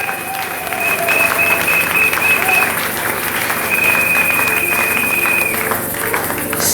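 A church congregation applauds and cheers for Jesus, with sustained clapping from a large crowd, a few whistles and shouts over it, all rising together and then easing off.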